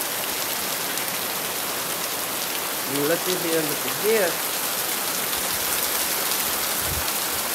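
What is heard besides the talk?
rain falling outside near a greenhouse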